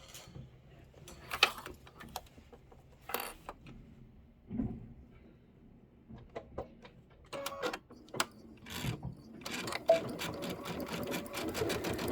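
Home sewing machine stitching quilt pieces together for a Kimberbell project, running in bursts of fast needle chatter broken by short pauses, fabric shuffling and small clunks, close and moderately loud with no talking.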